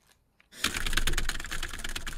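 Fast clattering computer-keyboard typing bursts in after a brief quiet moment, dense rapid key clicks close to the microphone during a League of Legends game.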